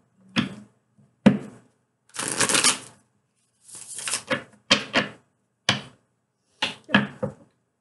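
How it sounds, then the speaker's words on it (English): Tarot cards are shuffled in several separate bursts, quick riffles and slaps close by, with short pauses of silence between them. "One more shuffle."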